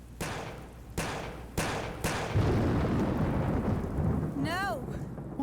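Heavy thunder in the video game Yakuza: several sharp cracks in quick succession, then a long rolling rumble over steady rain, ending with a brief swooping tone.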